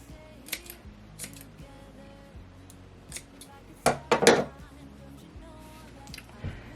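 Scissors snip at a felt pom-pom in quick close cuts, with a cluster of sharp snips near the end, over quiet handling noise.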